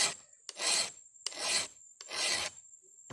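A file rasps across a chainsaw chain tooth in three even, deliberate strokes, each a rough scraping rush with a short tap between, close and fairly quiet.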